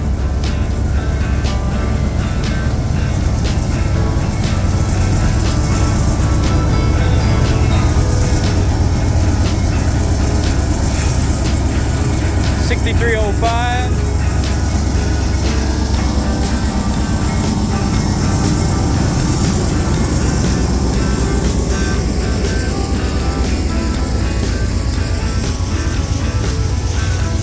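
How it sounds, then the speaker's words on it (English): A slow-moving unit coal train of old Union Pacific hoppers rolls past at close range, a steady loud rumble with rhythmic wheel clatter and squeals throughout; a brief voice can be heard. "Like a unit coal train. Look at that old Union Pacific hopper."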